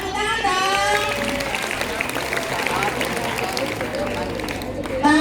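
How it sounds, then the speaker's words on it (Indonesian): A ninth-grade class claps for a correct answer during a literacy-day lesson, a rough burst of applause mixed with chatter and voices, moderately loud throughout. "Benar, tepuk tangan dong."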